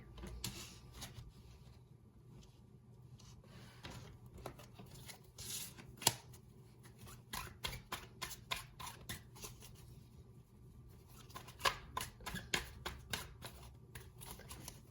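Tarot cards shuffled and handled during a reading, giving soft papery riffles and sharp flicks that come and go over a low steady hum, with a few louder slaps toward the middle and end and no talk.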